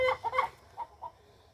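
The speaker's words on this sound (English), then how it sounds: "this has all of our new chickens from this year" A handful of new chickens clucking inside a coop on a farm, a few soft nearby clucks and murmurs in short bursts that trail off into quiet.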